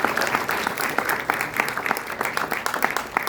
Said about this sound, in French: eux aussi méritent une bonne main d'applaudissements